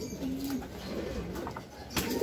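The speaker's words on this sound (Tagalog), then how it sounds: "Ito na ibon natin guys" A racing pigeon gives a soft, low coo against quiet outdoor background noise, with a few faint chirps around it.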